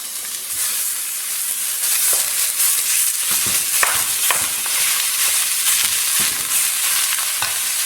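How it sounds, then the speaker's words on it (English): Sausage sizzles loudly in a hot skillet, a dense, steady frying hiss with occasional stirring scrapes and pops, heard up close without any voices. "I'm going to go ahead and add our sausage to it just to kind of pull some of that fat out."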